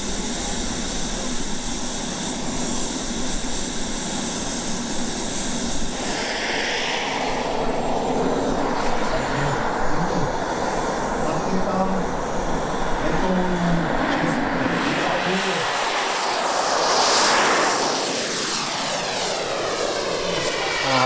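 An aircraft, apparently a model jet about 3.5 metres long, makes a flyby at an air show at Czech Heaven airfield in Ivančice, a loud continuous engine roar rising and sweeping past with a Doppler shift.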